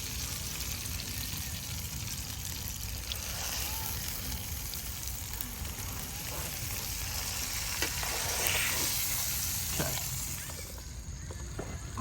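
A bone-in steak sizzles steadily in a frying pan, a dense, even crackle held close and fairly loud throughout, with a few faint clinks and shifts near the end.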